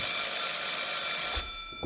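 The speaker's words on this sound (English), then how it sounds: "Oh, that's my phone." A telephone bell rings loudly and steadily in an office, a continuous metallic trill that cuts off abruptly near the end, with no talk over it.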